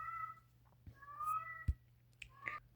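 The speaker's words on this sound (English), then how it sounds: "one of my cats was whining. In the background" A house cat whines with drawn-out meows in the background, faint and repeated several times, with a soft click or knock between cries.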